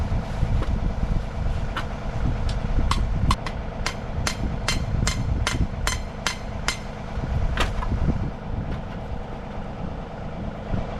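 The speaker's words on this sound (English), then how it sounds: "it's under a minute to drive this rod." A metal ground rod being driven into the ground with a hammer, a series of about a dozen sharp ringing strikes, quickening and then stopping, over a constant engine-like hum outdoors.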